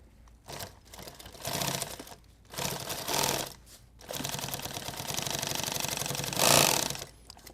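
A sewing machine stitches a pistol magazine pouch onto a load-bearing vest, running in loud, close bursts of rapid needle clatter that stop and start several times before one long steady run.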